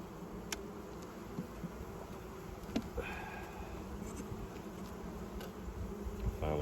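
Honey bees buzz steadily around an open hive on a new homestead, a close, continuous insect drone with a few brief clicks and handling noises and no talking.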